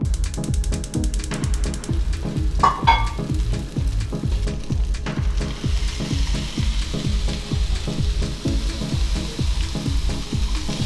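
Steak and potatoes fry in a pan, a steady sizzle under a loud, rhythmic ratcheting mechanical clatter that repeats throughout, with a brief scrape near the start.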